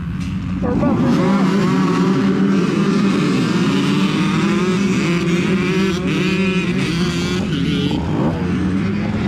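Several 2024 KTM 300XC dirt bike engines at a mud race make a loud, continuous, buzzing drone that rises and falls as riders rev, close and dense throughout.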